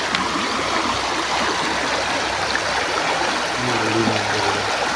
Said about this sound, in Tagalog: Ayun tulo.